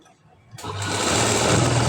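Sewing machine stitching a high-neck blouse, starting up after a quiet moment and then whirring in a steady, loud, fast run, with faint talk beneath.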